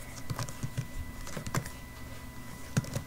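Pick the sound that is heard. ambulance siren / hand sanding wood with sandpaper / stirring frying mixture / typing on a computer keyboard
typing on a computer keyboard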